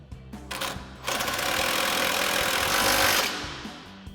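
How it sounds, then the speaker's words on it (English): An impact wrench with an 18mm socket tightens an 18mm suspension nut on a GMC Sierra 1500 lift install, one loud sustained rattling burst lasting about two seconds, close up, after a few short taps. "Then we'll go ahead and tighten it back down with our 18mm socket on our impact."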